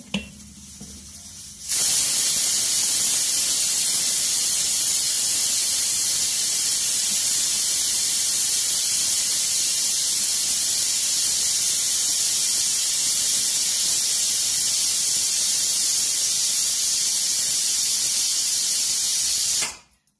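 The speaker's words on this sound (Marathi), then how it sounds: "शिटा झालेल्या आहेत. कुकर बंद करूया आपण" A pressure cooker's steam whistle, cooking sambar, blasts in a loud, steady hiss that starts abruptly after a brief quieter moment and keeps going for about eighteen seconds before cutting off.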